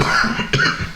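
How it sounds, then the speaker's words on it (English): A single dry cough, sharp and close, cutting briefly through quiet room tone with no speech around it. "He's got a dry cough and a little fever."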